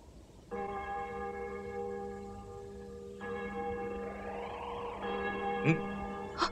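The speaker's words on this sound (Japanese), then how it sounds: "ウルトラ戦士の悲しい知らせを告げる鐘の音だった" A large bell tolls with a long, humming ring, then strikes again as the tone swells; a couple of sharp clanks sound near the end.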